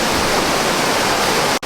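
Steady, loud broadband rush of a waterfall in Tara National Park near Bajina Bašta, Serbia, roaring continuously close by before cutting off abruptly at the very end.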